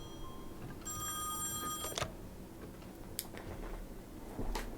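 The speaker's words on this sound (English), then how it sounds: "Ringing phones irritates the fuck out of me." An old-style telephone bell rings in the horror video game Song of Horror, a short burst of ringing at moderate level over a quiet, dark ambience, followed by a few faint clicks and knocks.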